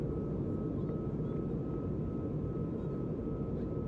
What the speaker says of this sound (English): It's a Dreamliner, Air India Dreamliner, I guess.